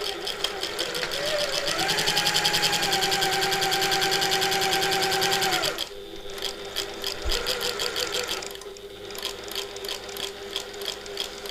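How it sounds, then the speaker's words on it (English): A home sewing machine stitches a curved seam with a 3/8-inch allowance, running steadily and loudly for several seconds before stopping, followed by lighter fabric handling and brief bursts of the machine. "I'm going to sew all the way around there and leave that top open"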